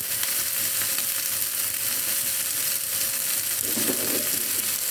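Fish frying in a Teflon pan over a moderate flame, a steady close sizzle with soft crackles and a brief louder burst of spattering near the end, no talk.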